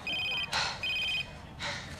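A telephone rings with electronic bursts in a 2005 TV drama, two chirping rings separated by brief noises, loud and close.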